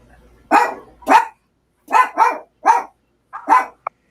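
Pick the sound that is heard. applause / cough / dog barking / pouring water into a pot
dog barking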